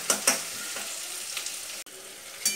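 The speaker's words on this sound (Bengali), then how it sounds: "এবার এটাকে ভালো করে ভেজে নেব।" Chopped onion fries in hot mustard oil in a wok for a dried-fish (shutki) bhorta. A steady close sizzle carries through, with a few sharp stirring scrapes at the start and end.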